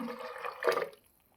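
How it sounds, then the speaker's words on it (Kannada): Water poured into a mixer jar for a black-eyed pea curry, a short close splashing pour that swells briefly and then stops, leaving near silence. "ಇವಾಗ ಎಷ್ಟು ಬೇಕೋ ಅಷ್ಟು ನೀರನ್ನು ಸೇರಿಸ್ಕೊತಾ ಇದ್ದೀನಿ."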